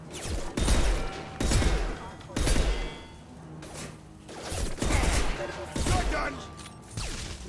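Shotgun blasts in Mass Effect 2 combat, about seven heavy booming shots spaced roughly a second apart, loud and close, with a voice talking between them.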